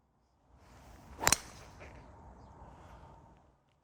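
A golf club strikes a ball for a low fading drive, one sharp crisp impact that stands out from quiet outdoor background noise.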